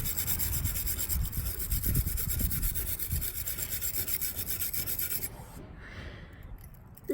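A hand tool scrapes and rasps steadily at old paint lodged in small cracks on a Pontiac Firebird part held with pliers during restoration, a close, continuous gritty rubbing that eases off near the end.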